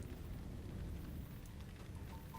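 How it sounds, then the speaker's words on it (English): Pouring rain in a video game forms a steady hissing wash of close droplets, with a faint tone surfacing near the end. "It's pouring rain."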